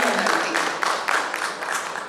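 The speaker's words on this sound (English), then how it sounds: "let us give a big round of applause to welcome Dochrella" Audience applause at a brand launch event: a dense, steady wash of clapping from a crowd that fills the room and carries on without a break.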